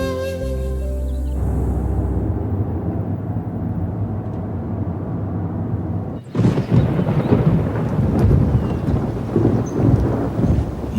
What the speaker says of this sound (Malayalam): മഴ വരുന്നുണ്ടല്ലോ.